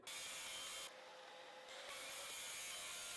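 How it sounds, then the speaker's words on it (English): A track saw makes long cuts through wood panels for a DIY folding party cart, producing a loud, continuous rough roar that dips briefly in the middle before returning at full strength. "I'll use my track saw for the long cuts"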